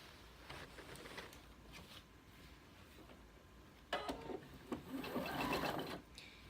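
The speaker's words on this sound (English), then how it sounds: "we're going to stitch right here across the bottom" A sewing machine stitching across the bottom of a lining, heard faint and close, a quiet running whir that builds into a louder burst of stitching near the end.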